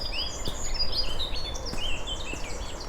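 Birds chirp and trill in overlapping high morning calls, a busy chorus over soft steady background hiss, with no voices.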